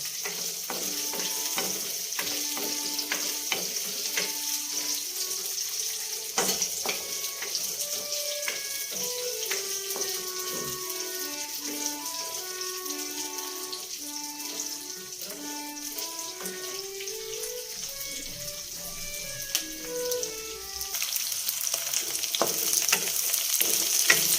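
Onions and chilies fry together in a pan with a steady sizzle for a besan kadhi, under a soft melodic music track that runs throughout.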